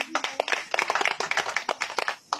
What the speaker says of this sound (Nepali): समन सरको जोरदार ताली